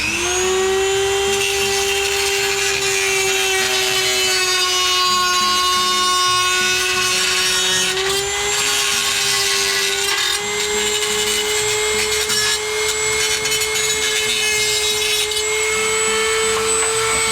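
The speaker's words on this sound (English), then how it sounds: "I got the grinding wheel out on my Dremel and I went over the circumference" A Dremel rotary tool with a grinding wheel smooths the edge of a circular cutout in an HP Victus 15L PC case, a steady high-pitched whine with a slight drop in pitch around the middle, loud and continuous with no talk.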